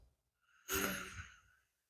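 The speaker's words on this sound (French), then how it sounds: "Expirez par la narine droite. Inspirez." A single nostril inhalation during a short yin yoga breathing exercise, a close, soft airy rush lasting about a second, heard alone in a quiet room.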